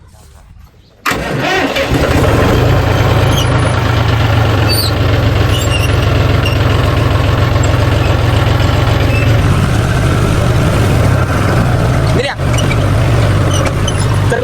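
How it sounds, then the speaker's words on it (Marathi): A tractor engine starts after a moment of quiet, then runs loudly at a steady close idle on a farm, continuing for the rest of the clip. "चाललोय ट्रॅक्टर घेऊन"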